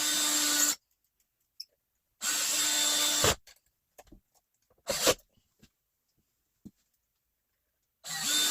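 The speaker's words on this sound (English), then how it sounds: "Now we're going to put the screws in." Power drill driving screws for mini blind brackets during a home remodel, three short whirring bursts separated by silence, close and clear, with small clicks and handling sounds between.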